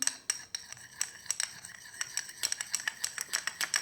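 Homemade glow toner being shaken in a bottle gives off quick, irregular clinking and rattling hits, sharp and close, in an uneven burst with no speech.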